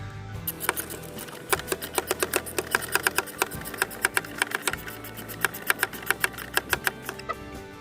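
A hand ratchet lightly snugs a new PCV valve on a second-generation Toyota Tundra 5.7 V8: a close, rapid string of sharp, even clicks from the pawl running steadily for several seconds, with no talk.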